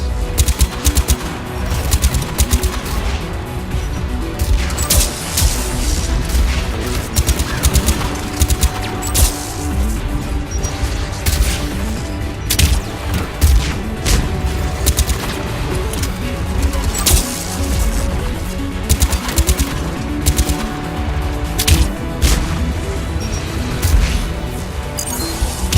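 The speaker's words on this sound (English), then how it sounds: "AA guns ahead of us." In the Mass Effect video game, anti-aircraft guns keep up a dense, continuous barrage of rapid firing with crashes and booms mixed in, and the din runs loud and unbroken throughout.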